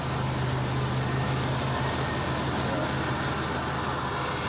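Steady, loud idle of a Jeep Wrangler TJ engine, rumbling continuously with a low droning hum and broad mechanical noise, no talking.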